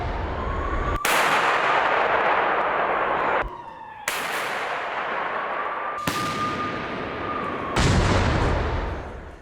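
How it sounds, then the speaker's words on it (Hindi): A British howitzer fires on Russian positions, booming out in about four loud, heavy blasts, each with a long rumbling tail that fills the gaps between shots. "ब्रिटिश होवित्जर तोप से रूसी सेना को निशाना बनाया।"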